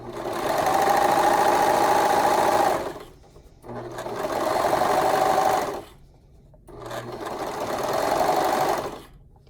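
Sewing machine with a cutting blade running a seam along scrunchie fabric in three steady bursts, each a few seconds long with brief pauses between, close and loud.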